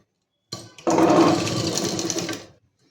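A sewing machine runs steadily for about two seconds while stitching a collared kurti, starting with a brief burst, then settling into a loud, even mechanical whir before stopping. No voices are heard.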